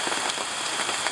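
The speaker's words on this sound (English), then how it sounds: "It's really raining now." Heavy rain pours steadily onto a campsite, a dense, close hiss of drops hitting surfaces with no break and no voices.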